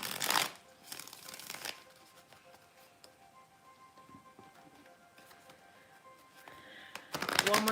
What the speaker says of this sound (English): One more deck to shuffle